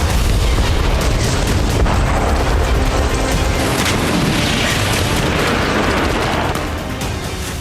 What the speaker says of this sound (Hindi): रूस को अपनी ही धरती पर पहली बार फैब 500 से विस्फोट करना पड़ा